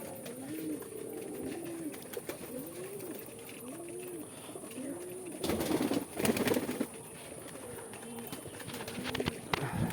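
Fancy pigeons on a farm coo in a repeated rhythmic series of rising-falling calls, close and clear, interrupted midway by a burst of wing flapping and scuffling before the cooing resumes.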